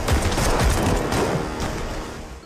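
A film shootout where a man is sprayed with bullets: a dense, loud burst of rapid gunfire rattling continuously for a couple of seconds, close and booming, fading slightly toward the end.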